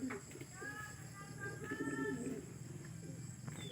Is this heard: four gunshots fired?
no